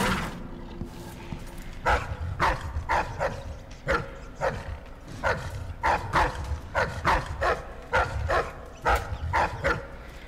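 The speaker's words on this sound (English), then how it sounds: "there's really nothing cuddly or cute about these dogs" Dogs bark in the video game Dishonored 2, with a run of repeated sharp barks and yips in irregular bursts at moderate distance and a low ambient rumble underneath.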